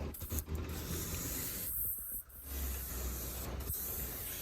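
Flat paint is brushed or rolled across the top of a homemade laptop table, making a close, steady soft scraping and hissing with a couple of short breaks, and nobody talks.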